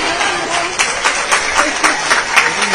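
An audience claps together at a gathering, a brisk, loud burst of applause with individual hand claps punctuating the steady patter.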